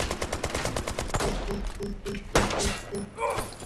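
Gunfire in the shooter game Brothers in Arms 3: rapid bursts of automatic shots and thumps crackle in clusters, with a sharp louder impact partway through and dense combat noise throughout.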